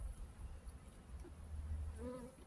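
Honey bees humming at an opened hive during a check after a queen change, a faint steady low drone with a brief closer buzz of a passing bee near the end.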